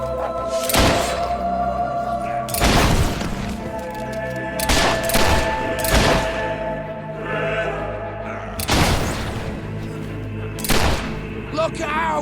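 Fire spell explosions in Fable 3: a handful of sharp, loud blasts land at irregular intervals over ongoing game music, each a sudden near crack with a short rumbling tail, with voices talking between them.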